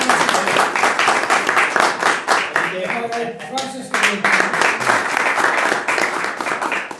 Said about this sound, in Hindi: हम सबसे पहले अपने भाई पोतनैल एंड्रू के लिए ताली बजाएं